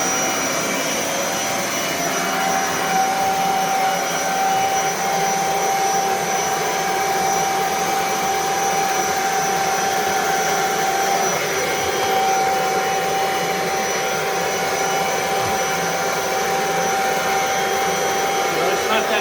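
Kirby vacuum cleaner running steadily with a constant high whine and airy roar, loud and unbroken throughout, with no pauses or changes in pitch.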